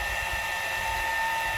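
An air blower blasts a steady, loud rushing whine of air onto barbecue charcoal to heat the coals, continuous and close throughout.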